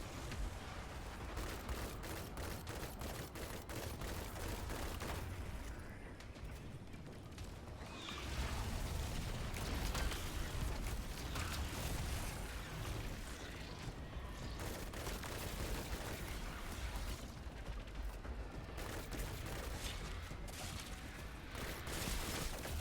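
Hand cannon gunfire in the Destiny 2 video game, with rapid repeated shots and bursts of mechanical clatter that run densely and loudly throughout, with no pauses.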